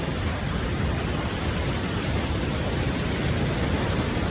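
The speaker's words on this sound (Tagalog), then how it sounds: "Madongan Falls is located in San Marcelino, Dingra, Ilocos Norte." Madongan Falls in San Marcelino, Dingra, Ilocos Norte pours as a constant, dense rushing roar of falling water, steady and close with no break throughout.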